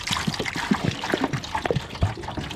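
Water trickles and splashes in short irregular bursts as red Indonesian banana tissue-culture plantlets are rinsed, close and fairly loud with small drips and splatters throughout.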